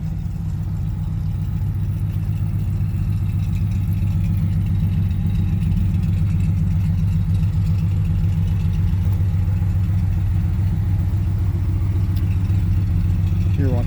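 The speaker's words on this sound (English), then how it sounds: "you can hear the exhaust coming out the driver's side" Exhaust from the Chevy stroker 454/496 big-block engine of a 1977 Airstream Argosy motorhome, idling outdoors: a steady, loud, low rumble that runs unbroken from start to finish.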